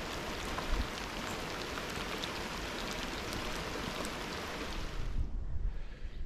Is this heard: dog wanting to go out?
no